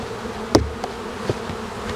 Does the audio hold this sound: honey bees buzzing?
yes